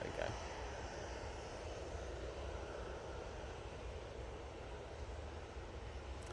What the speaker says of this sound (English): closely following it is the Dreamliner. You'll see it coming in from the left any second now